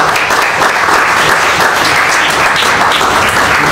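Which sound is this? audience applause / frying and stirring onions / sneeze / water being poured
audience applause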